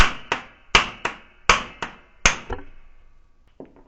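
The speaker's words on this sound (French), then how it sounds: "je prends une douille de 14 et je frappe dessus" A 14 mm socket is hammered against the flywheel nut of a Solex 5000 moped, giving eight sharp metallic blows in an uneven rhythm, loud and close, each ringing briefly before the next, followed by a few faint clinks.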